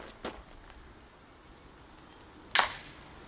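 A homemade pistol crossbow fires a bolt at close range: one faint snap near the start, then a single sharp, loud crack of release and impact a couple of seconds later, with no talking.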